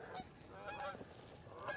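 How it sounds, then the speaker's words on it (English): A flock of geese flies over people out fishing, honking in a quick run of nasal calls at moderate distance, somewhat faint, with no talk during the calls. "here comes some damn geese"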